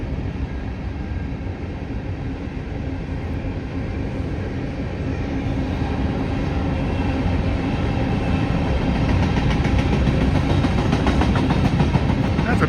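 A heavy Norfolk Southern freight train rumbles past steadily, its broad low roar building slightly louder toward the end with faint rhythmic rail clatter.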